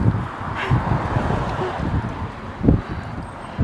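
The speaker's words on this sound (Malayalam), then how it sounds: "ഈ കാറ്റ് തന്നെ സൗണ്ട് എത്ര കേൾക്കുന്നുണ്ട്" Strong gusty wind buffets the microphone outdoors in a steady low rumble, with a louder gust near the end and no talk over it.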